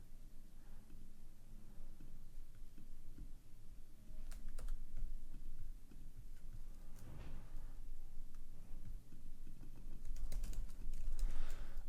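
Steady typing on a computer keyboard with an apparent fault, a continuous patter of key clicks with occasional louder strikes and brief pauses, close and alone with no talking.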